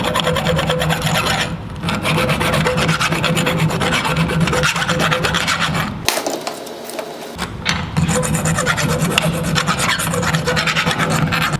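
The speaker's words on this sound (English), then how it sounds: "Grab yourself a bastard file, and let's smooth this thing over." Bastard file rasping steadily across the cut edges of a metal garden trowel blank clamped in a vise, a continuous close scraping stroke with one brief pause midway.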